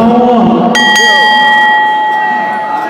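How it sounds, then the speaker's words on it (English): A timekeeper strikes the bell at a British wrestling match, two quick metallic dings that ring out and decay slowly over a loud, roaring arena crowd. "The bell rung there for our official timekeeper there"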